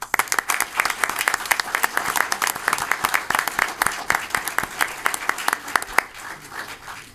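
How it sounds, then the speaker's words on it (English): A school board meeting audience gives a round of applause for students, loud, continuous clapping with distinct individual claps standing out, tapering slightly at the end. "I'd like to ask for a round of applause for our students"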